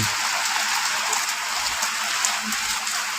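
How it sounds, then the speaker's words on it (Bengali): Steady night rain falls in Fatikchhari, a dense, even hiss of drops that continues without pause for the whole stretch. "বৃষ্টি হচ্ছে"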